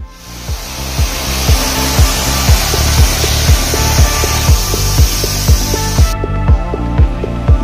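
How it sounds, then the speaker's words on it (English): A Dyson hand dryer built into the tap at Miami's Brightline train station blows a steady loud airy rush over a rhythmic music beat, then cuts off abruptly near the end. "The Miami Brightline station has these Dyson dryers installed right within the tap system."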